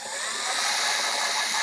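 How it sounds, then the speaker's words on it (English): Longer screws are power-driven through a plastic cowl into the fixing on a Land Rover Defender grille, a close, steady whirring drive lasting the whole short moment. "Now these longer screws actually screw through the plastic and into the fixing."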